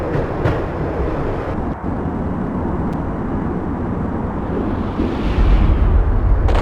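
A steady, heavy rumble of a moving train in the video game Max Payne, running through snow at around 80 mph, fills the whole stretch, with rolling low-end noise that swells louder near the end.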